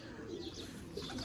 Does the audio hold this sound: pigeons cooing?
yes